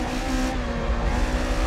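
Drift race cars run at full throttle during a 2006 drift event, a loud, continuous engine roar close by, droning steadily with no talking.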